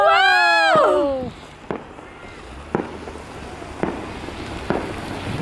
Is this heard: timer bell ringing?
no